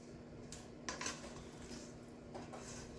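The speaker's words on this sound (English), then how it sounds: "You gotta have a big enough bowl to stir it up in." Caramel-coated popcorn is stirred in a large bowl, with a few soft scraping clinks and rustles spaced out over a quiet background.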